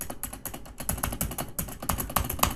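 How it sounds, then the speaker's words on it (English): Keys on a Logitech K840 aluminum mechanical keyboard clatter in a steady, fast run of close typing strokes, one key giving a looser, rattly shake, with no talk. "But for whatever reason, this key sounds shaky."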